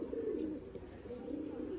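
Pigeons coo in a low, steady murmur throughout, a continuous throaty warble close by with no clear breaks, against faint background hiss.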